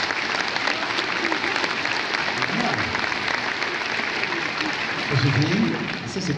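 A theatre audience at a French comedy event applauding in response to a question, a thick, continuous roar of clapping mixed with crowd noise and some voices, loud and sustained throughout.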